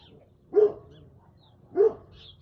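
Dogs bark twice in short, separate bursts, fairly close and moderately loud, with quiet gaps between and nobody speaking.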